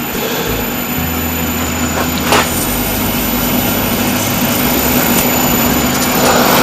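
Wood lathe spinning steadily with a high motor whine and a low hum while a wooden shaving brush is lightly sanded, with a couple of brief scratchy touches; no talk.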